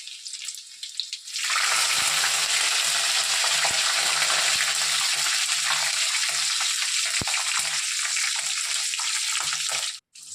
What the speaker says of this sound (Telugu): ఇవన్నీ బాగా ఫ్రై చేయాలి